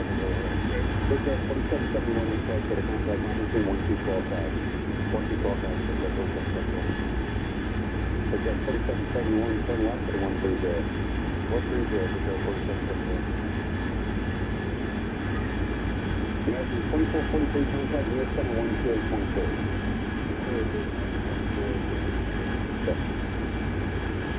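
Aircraft engine drones steadily throughout a landing approach in the flight simulator DCS, a loud continuous roar with a faint high whine, while voices talk over it.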